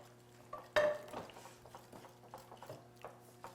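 Zucchini and parmesan quiche filling stirred in a bowl, a spoon scraping and clinking against the sides in an irregular series of close, soft strokes, with one sharper knock near the start.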